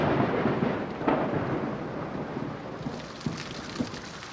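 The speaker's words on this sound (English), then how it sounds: "Rain, when it sweeps across the Mojave Desert, is often sudden, brief," Steady rain hisses throughout while thunder rumbles and cracks at intervals, loud and close, in a stormy Mojave Desert setting with no voices.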